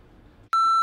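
A loud, steady censor bleep tone abruptly cuts in after a half second of low, muffled background noise and holds to the end.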